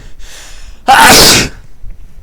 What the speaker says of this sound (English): My apologies, had to sneeze